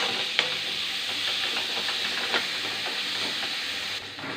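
Onions sautéing in a pan for a three-fish curry with sardines and anchovies, a steady soft sizzle and hiss with scattered stirring scrapes and clinks, close and continuous with no talking.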